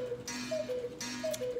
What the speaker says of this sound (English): Cuckoo clock.